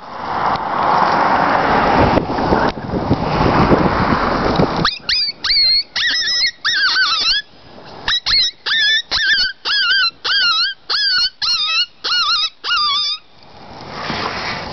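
A small Ki-Yi distress call with little sound chamber, held in the hand and blown by mouth, gives about a dozen sharp, high squealing yelps in quick bursts. It follows a few seconds of breathy noise.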